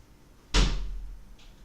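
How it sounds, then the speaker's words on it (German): A single sharp bang of a toilet door heard in-game during Minecraft play, one sudden thud with a short ringing decay, fairly close and alone. "Was chattert da ständig für eine Türe?"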